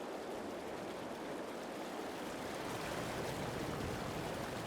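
A small river stream flows in the Farming Simulator 22 video game, a dense, continuous rushing wash of water at steady loudness with no talking.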